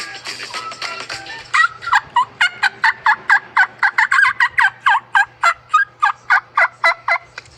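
A handheld turkey call imitates a turkey's gobbling in a rapid, steady series of about two dozen sharp, loud notes, up close and alone.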